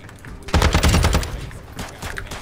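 Incoming gunfire in a shooter video game, a loud rapid burst of automatic shots cracking in sequence, followed by fainter scattered rounds.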